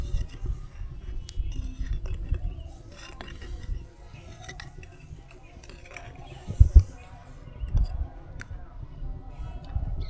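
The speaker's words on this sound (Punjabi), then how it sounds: "ਕੜਛੀ ਨਾਲ ਹਲਾ ਦੇਾਂਗੇ" A ladle stirs rice in a pot for jaggery rice, making scattered metallic clinks and scrapes with a couple of sharper knocks, under someone talking.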